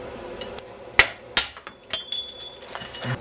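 A hammer and drift knock the lower steering head bearing cup out of a motorcycle frame: four or five sharp, close metallic strikes with ringing decay, spaced irregularly over a few seconds, no talking.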